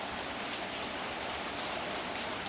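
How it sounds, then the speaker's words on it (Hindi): Steady rain pours down without pause at an evening building site, a dense even hiss that fills the whole stretch with no voices. "लगातार बारिश पड़ रही है"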